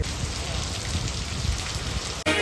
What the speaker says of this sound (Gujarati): આ વરસાદ પડે એ જોઉં તમે